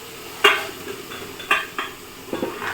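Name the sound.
mushrooms added to hot oil in pan for biryani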